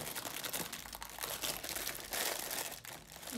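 Plastic bags crinkle and rustle continuously as a parcel is unpacked, close and fairly quiet, with irregular bursts of crackling and no speech.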